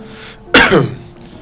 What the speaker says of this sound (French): je suis désolé, je tousse.